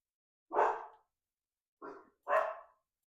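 Dogs bark three times at close range, one loud bark followed after a pause by a quicker pair, with silence in between.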